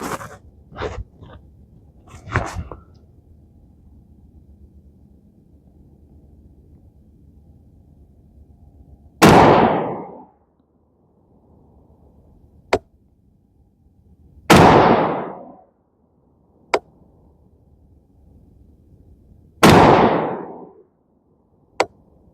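A rifle with an Odin Works 18-inch .223 Wylde 3-Gun profile barrel fires 75 grain Hornady Frontier .223 ammunition: three loud, sharp shots with short decaying tails, spaced several seconds apart, with smaller clicks and knocks between them.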